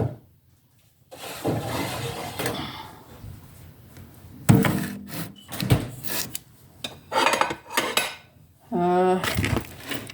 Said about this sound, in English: I want to make some food warm.